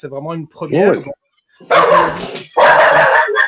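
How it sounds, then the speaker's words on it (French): A dog barks in sharp bursts indoors, two quick yaps followed by longer, louder barking, with a voice talking just before. "Désolé, c'est mon chien psychopathe"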